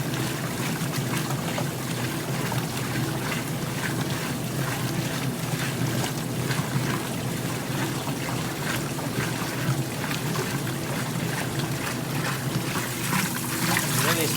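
A washing machine on a small load setting sloshing and throwing clothes around in its water, a continuous loud churning splash with rhythmic surges, while a person speaks over it.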